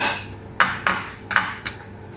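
Salad is mixed in a bowl, with a few sharp clinks and scrapes of a utensil against the dish at an uneven pace, close by.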